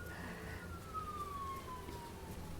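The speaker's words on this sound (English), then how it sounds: "that siren is for you. The one you're hearing in the background." Emergency siren in the background, faint and distant, one slow falling wail sweeping down over a soft steady room hum, with no voices.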